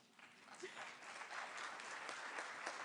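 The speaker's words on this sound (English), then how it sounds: "applause for me and for all these announcements" Audience at a NATO summit in Turkey claps, a soft, fairly distant wash of applause that swells after a quiet start and holds steady, with a faint voice underneath.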